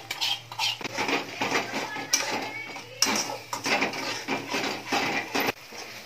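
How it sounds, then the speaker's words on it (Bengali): Masala paste of ground and blended spices being stirred and sautéed in a pot for a vegetable paneer biryani, with steady scraping and clinking of a metal spoon against the pot throughout, close and fairly loud, with no talking. "এবার মশলাটাকে একটু ভালো করে কষিয়ে নিচ্ছি"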